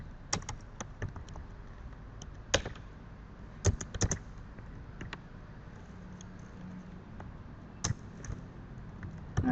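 Typing on a computer keyboard, close and fairly quiet, with irregular bursts of key clicks and short pauses between flurries, no talking.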